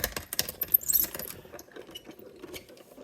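Card-making die cutting machine gives an irregular grinding and clicking rattle as it runs, busy at first and then thinning out into a few scattered clicks.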